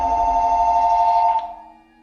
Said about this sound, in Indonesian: dia ditelepon oleh operator keamanan